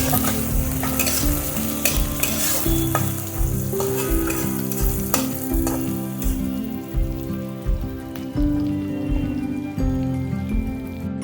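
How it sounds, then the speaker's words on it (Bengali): Potatoes fry in hot oil in a pan for a Bengali Malabar spinach and prawn curry, a steady close sizzle broken by regular scraping and clinking strokes of stirring. "প্রথমে আলুগুলো দিয়ে দেবো, আলুগুলো দিয়ে একটু নাড়াচাড়া করে দেবো।"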